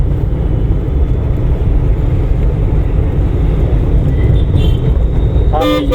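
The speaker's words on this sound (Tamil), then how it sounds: "ஹாரன் பத்தலை." A car horn gives a short honk near the end during a driving-school lesson, cutting through a loud, steady engine and road rumble inside the car.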